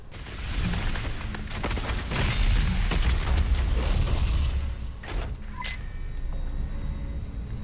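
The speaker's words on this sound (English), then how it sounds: "MG 10000 is firing" The MG 10000 firing in Doom Eternal's Mars Core, a heavy mechanical roar with rumbling booms and grinding creaks that surge loudly, then cut off into quieter electronic tones.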